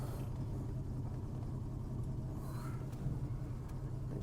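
A Jaguar Mark 2 idles while being put into reverse, giving a steady low engine rumble, close and even, with a faint hiss partway through and no talk.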